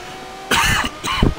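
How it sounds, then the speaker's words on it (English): Two harsh, close coughs burst into the microphone a half second apart during a racing commentary, loud and sudden against a quiet background. "Oh, sorry for coughing in your bloody ear."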